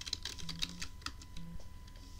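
Quiet, steady clicking of keys on a computer keyboard, a rapid run of close keystrokes with no talking over them.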